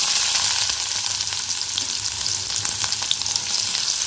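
Onions hit hot oil for banana stem kootu, setting off a dense, constant sizzle with faint crackles and occasional stirring scrapes, close and fairly loud, without any speech.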